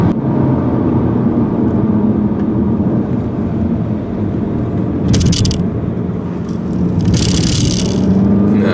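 A 2015 Seat Leon Cupra 280 running hard over the curbs at the Nürburgring, its engine drone and road rumble loud and steady throughout, with two short bursts of harsh scraping and rattling from the tyres striking the kerbs.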